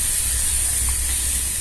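Tomato thoran cooks in a clay pot with a steady, close sizzle and hiss that stays even from start to finish.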